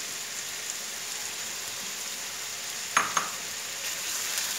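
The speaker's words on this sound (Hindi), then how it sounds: "अब थोड़ी देर तक इसको भूनें" Chicken frying in a pan for a chicken lasagna, a steady close hiss of sizzling throughout, broken by a couple of brief clinks from stirring.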